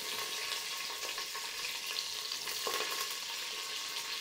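Vegetables for coconut milk rice sizzle and crackle steadily in hot oil in a home kitchen pan, a continuous close frying hiss with occasional stirring scrapes and no talking.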